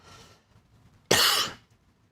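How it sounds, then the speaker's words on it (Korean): A single dry throat cough bursts out loudly and close, preceded by faint breathy throat sounds and followed by a short click, with no talking around it. "제가 조금 목이 좀 건조해가지고 좀 기침을 했습니다"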